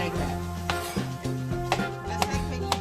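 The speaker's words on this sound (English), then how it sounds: "Apologize if the noise of the cutting board is getting to you." A knife chops zucchini into dice on a cutting board, giving irregular sharp taps close by over a steady background of tonal music.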